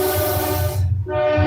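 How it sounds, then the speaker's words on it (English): A train passing close by, loud and continuous rumbling with a sustained horn blast held across most of the moment, briefly dipping then resuming. "Sorry for the train."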